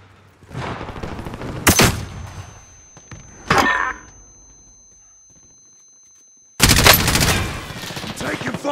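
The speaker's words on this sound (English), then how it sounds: "I'm taking fire!" Gunfire in the battle royale video game Warzone: loud bursts of shots come in three clusters separated by quieter stretches, with the last sustained volley the heaviest; no one speaks.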